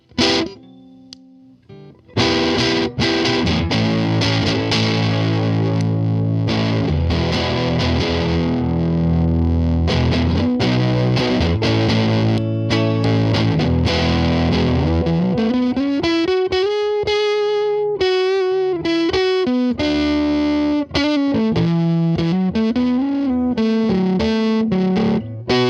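Electric guitar played through an overdrive pedal with a fizzy, harsh distorted tone, chords strummed loud and steady, then single sliding notes and bends, with no talking.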